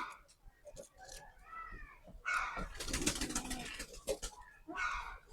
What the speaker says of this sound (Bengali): কবুতরগুলো সব উড়ে যাচ্ছে, আমাদের দেখে ভয় পাচ্ছে।